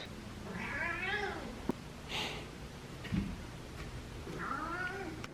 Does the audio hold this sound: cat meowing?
yes